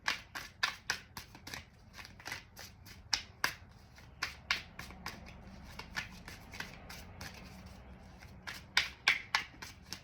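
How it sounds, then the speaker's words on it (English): Tarot cards shuffled by hand in quick irregular bursts of crisp riffling snaps, close and clear against a quiet background, with brief pauses between flurries. "Let's get some shuffles in and get the feel of it."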